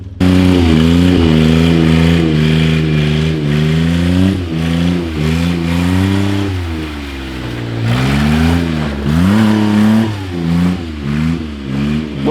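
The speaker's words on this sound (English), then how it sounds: "I guess we're not really drifting because it's only doing like donuts, but still fun." A Kei truck's small engine revs loudly and continuously while spinning donuts in snow, its pitch rising and falling in repeated swells, very close and dominant with no talking.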